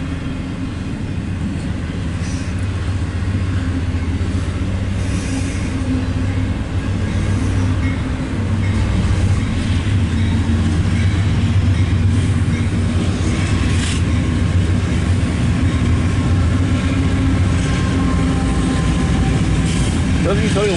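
A CSX intermodal freight train rolls past, a steady low rumble of wagons and wheels with faint clanks throughout, while someone talks nearby.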